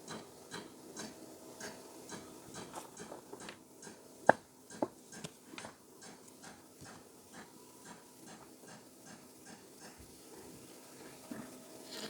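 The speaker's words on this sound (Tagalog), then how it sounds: "may construction po sa kabilang bahay" Construction work in the house next door sends faint, distant hammering. Irregular knocks ring out over a quiet background, with a couple of sharper strikes standing out.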